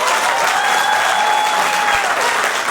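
Guests at a wedding celebration break into loud, sustained applause, a dense wash of many hands clapping close by that holds steady throughout with no pause.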